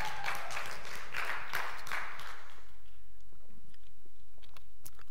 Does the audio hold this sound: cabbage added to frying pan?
no